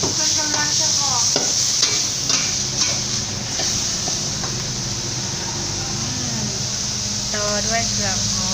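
Aromatics tossed and stirred in a hot pan for a Lao-style rice noodle dish, giving steady close sizzling with scraping and clatter, while people talk over it at intervals.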